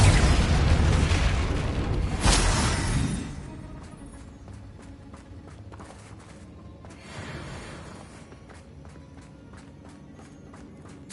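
Confringo blasting spell from Hogwarts Legacy: a loud booming burst at the start that rolls off into a lower rumble, followed by lighter scattered impacts and footsteps-like clatter.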